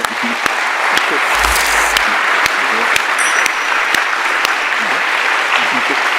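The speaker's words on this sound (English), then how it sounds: "And a round of applause." Sustained round of applause from a conference audience after a panel discussion, steady and fairly loud with a few sharper claps standing out.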